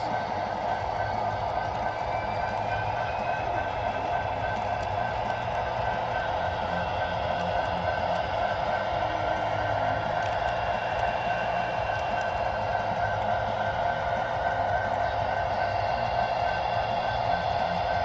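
A CSX model train runs on a small loft layout, with a steady electric motor hum and faint rolling rail noise that stays even and close. A thin whine rides on top throughout.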